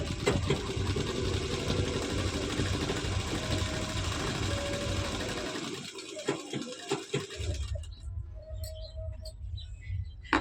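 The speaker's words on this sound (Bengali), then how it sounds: "এখন আমি লম্বা টান সেলাইগুলো দিচ্ছি" A sewing machine running long straight stitches through a kantha quilt, a close, steady mechanical whir for several seconds before it stops, leaving a few faint clicks and light handling noises.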